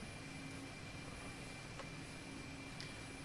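Mi-8 helicopter engines running in the DCS flight simulator, a steady, fairly quiet turbine whine and rotor drone with faint high tones and brief ticks over a constant wash.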